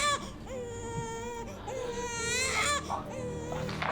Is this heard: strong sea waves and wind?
no